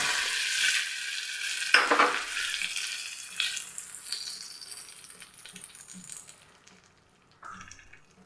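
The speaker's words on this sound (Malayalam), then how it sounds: "ഇനി നമുക്കിതൊന്ന് കടുക് വറുത്തെടുക്കാം കേട്ടോ" Mustard seeds, urad dal, dried chillies and curry leaves hit hot oil as a tempering for rava dosa. A loud sizzle opens, a sharp crackling burst follows, then the frying fades gradually while being stirred.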